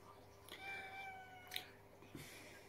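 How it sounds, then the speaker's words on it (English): A cat gives a couple of faint, short meows nearby amid quiet room tone, with a small clink or thump between them. "Got a cat there meowing at me now"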